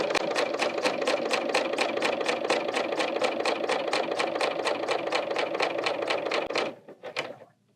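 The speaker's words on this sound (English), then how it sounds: "I'm going to allow the machine to stitch over some of the previous stitches that I already made" A Bernina L890 serger stitches and trims fabric in a fast, even mechanical chatter that runs loud and close, then slows and stops near the end.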